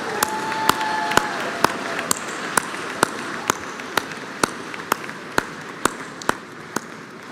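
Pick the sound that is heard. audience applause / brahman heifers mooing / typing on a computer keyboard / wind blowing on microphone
audience applause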